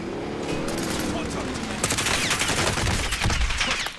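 Sustained gunfire in a Call of Duty video game, loud rapid overlapping shots running the whole way through, with a voice talking faintly underneath.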